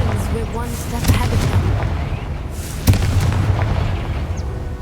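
Confringo explosive spell cast in the video game Hogwarts Legacy: two sharp booming blasts about two seconds apart, rising over a steady bed of game ambience and music.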